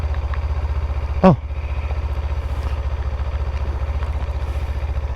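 A 2024 Kawasaki Ninja 500 KRT SE ABS idles close by with a steady, low pulsing thrum, and a short vocal exclamation cuts in briefly early on.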